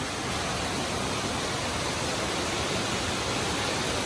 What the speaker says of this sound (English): here's the second waterfall